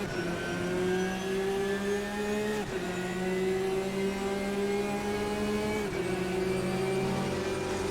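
A race car engine in the game Assetto Corsa drones at steady high revs with a tonal whine, dipping briefly twice as if shifting gears, with no talking.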